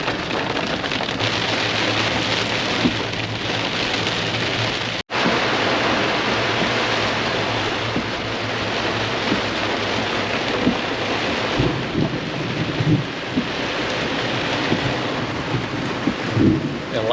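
A thunderstorm in Florida pours heavy rain around a truck, with a loud, steady roar of rainfall and low rumbles of thunder rolling underneath, briefly cut off for a moment, with no talking.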